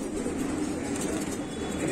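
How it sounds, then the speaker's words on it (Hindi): Madrasi pigeons, twenty or so kept together for sale, make a dense, steady murmur of cooing that runs without a break and is faintly backed by rumbling noise. "मद्रासी कबूतर है भाई"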